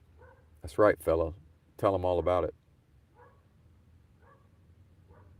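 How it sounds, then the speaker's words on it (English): Someone speaks briefly, then soft, faint dog whimpers and low vocal noises follow in the quiet after his voice. "If you hear the dog barking."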